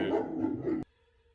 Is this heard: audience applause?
no